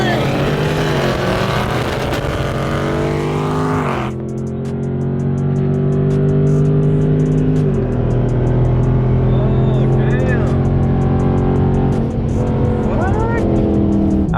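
Dodge Charger Scat Pack engine roaring loud and close while racing a Challenger Scat Pack, a steady heavy drone with gear shifts around four and eight seconds, voices talking over it.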